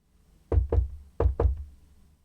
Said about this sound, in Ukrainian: У двері постукали рівно чотири рази.